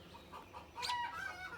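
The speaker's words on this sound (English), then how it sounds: "Don't mind the cackling hens." Hens clucking and cackling in a morning garden, a short burst of bright, excited calls rising in the middle over a quiet outdoor background.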